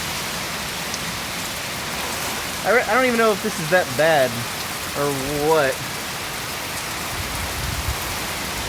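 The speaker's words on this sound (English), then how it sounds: "can you see those like sheets of rain just plowing through?" Heavy rain pours down steadily during a tornado storm in Simpsonville, South Carolina, a dense loud hiss throughout, with people talking over it in the middle.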